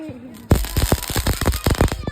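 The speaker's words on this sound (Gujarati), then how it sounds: "ફટાકડા ફોડતા શીખવાડે છે ફોડો છો" Diwali firecrackers going off outdoors in a fast, loud volley of close sharp bangs and crackles after a brief quieter moment with a faint voice.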